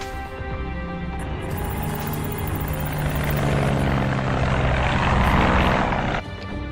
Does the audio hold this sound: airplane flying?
yes